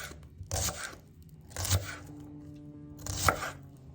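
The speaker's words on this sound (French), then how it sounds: "J'épluche et j'émince l'échalote." A knife peels and minces a shallot on a cutting board, making three separate bursts of crisp chopping and scraping with quiet gaps between them, close up and without talk.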